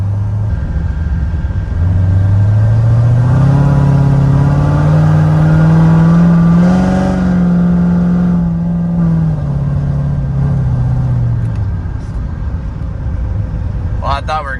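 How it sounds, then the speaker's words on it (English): Modified 900whp Corvette C7 Z06 with a thumping cam, engine droning loud and close as it climbs in pitch, holds steady while cruising, then eases off, with talk in the cabin over it. "It's just a little louder, and every now and then you can hear that cam thumping"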